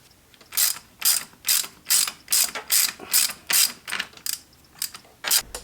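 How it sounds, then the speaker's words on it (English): Ratchet clicking in short repeated bursts of rapid pawl clicks, about ten strokes, close and loud, while a timing belt tensioner bolt is tightened on a 4G64 engine with an Evo 9 Kevlar belt fitted. "then we can just tighten this bolt down"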